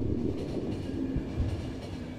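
A train rolls along in the video game The Final Station, a close, steady low rumble with faint rhythmic clatter of wheels on track and no voices.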